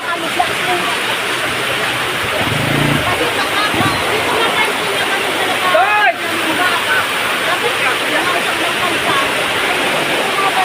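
Strong floodwater rushes past in a loud, continuous roar, with people shouting and talking over it.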